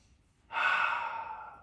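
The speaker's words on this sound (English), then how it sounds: "Good breath in, good breath out." A single deep yoga breath, drawn in slowly and then let out in a long, steady, airy exhale, close and clear with no talking.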